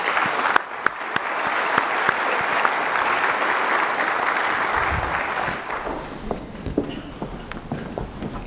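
An audience at the 2019 OC Water Summit applauds as panelists come to the stage, with dense clapping for about five seconds before it thins into scattered claps and footsteps.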